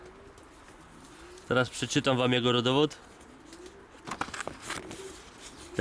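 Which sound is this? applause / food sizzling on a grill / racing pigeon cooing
racing pigeon cooing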